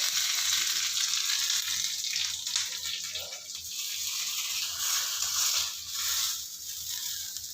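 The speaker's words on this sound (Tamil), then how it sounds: "இதோ பாருங்க நெய்யிலேயே கருவேப்பிலை பொரிச்செல்லாம் ரொம்ப நல்லா இருக்கும்" Curry leaves fry in hot ghee with a steady, close crackling sizzle that holds throughout and swells and eases gently, with no voices.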